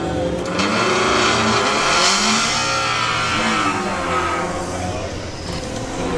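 A VW drag racing car roars through a Pro qualifying run at Bug Jam, engine loud and near, revving up and then receding, with crowd and commentary noise beneath.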